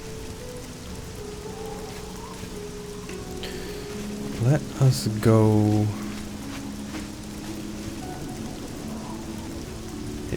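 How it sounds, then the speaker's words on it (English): Steady rain falls in the video game Elder Scrolls Oblivion, a soft continuous hiss filling the scene, with a brief spoken phrase and a few louder game effects midway. "It even rains through the concrete."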